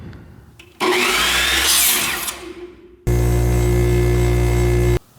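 A power tool cutting tachometer cable casing: a loud whining cut that fades off, a brief pause, then a steady high motor hum running alone before stopping abruptly.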